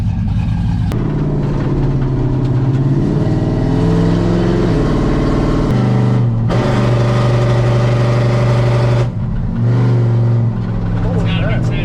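A Chevrolet Silverado 5.3 V8 fitted with a TBSS intake runs loud and close, its engine note climbing and falling through sustained revs at wide-open throttle with a steady droning roar.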